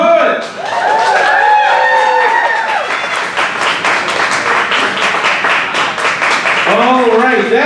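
An audience at a poetry slam in Dayton, Ohio claps and cheers loudly for a poet, a dense burst of nearby applause with a few whoops, while a voice speaks over it at the start and near the end.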